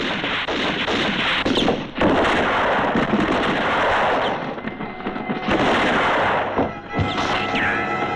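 Gunfire aimed at a rolling barrel in a spaghetti western film, heard as several heavy booming bursts and cracks spread over the scene with a dense, rumbling battle-like texture.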